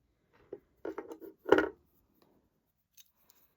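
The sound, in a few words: cutting jewelry wire for bead earrings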